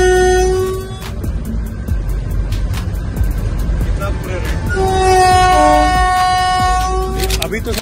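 A locomotive runs along the track with a rumbling, clattering drone while its horn sounds in repeated toots and longer blasts over several seconds, loud and close.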